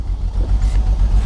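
A BMW E46 330ci engine just after starting, running rough with a low uneven stuttering idle, close and fairly loud, brief.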